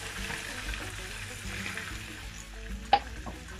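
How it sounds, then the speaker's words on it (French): Eggplant and zucchini cooking in chicken broth in a saucepan, giving a steady low bubbling and sizzling simmer throughout, with one brief sharp clink near the end. "Je laisse mijoter au moins 10 minutes."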